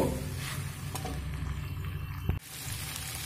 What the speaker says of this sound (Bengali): তো দেখুন এইভাবে একটু 2 থেকে 3 মিনিট আমি কষিয়ে নেব।